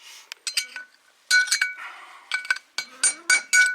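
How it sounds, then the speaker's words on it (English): Hammer tapping a wheel bearing race into a trailer hub, a quick series of sharp, ringing metallic clinks in irregular clusters, close and clear with no talking. "So we'll just give it a couple more taps"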